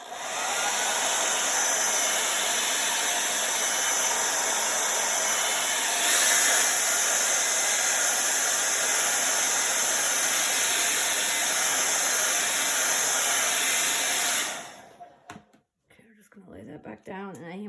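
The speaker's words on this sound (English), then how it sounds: "so we're just gonna hold this and angle the blow dryer." A blow dryer runs close and loud in a steady whooshing roar while the dryer is angled over a chalk paste stencil on a craft board. It holds for about fourteen seconds, then cuts off and leaves quiet handling sounds.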